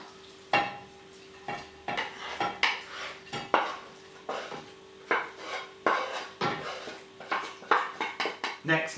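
Cooked cottage pie meat being spooned into a baking dish, with repeated scraping and clinking of a utensil against the dish in an irregular rhythm, close and fairly loud.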